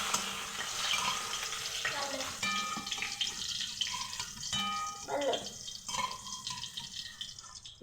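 Chopped onions fry in a pan and are stirred, making a steady sizzle with scraping and clinking of a utensil against the pan. A voice talks faintly in the background.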